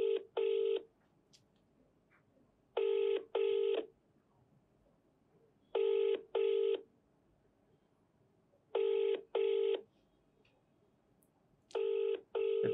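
A phone keypad is dialed in five short paired bursts of tones, evenly spaced with quiet gaps between them, close and clear with no talk over them.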